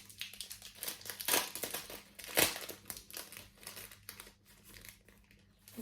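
Crinkling and crackling plastic wrap around a sunglasses accessory package as someone struggles to open it, with steady rustling and two louder tearing bursts close by.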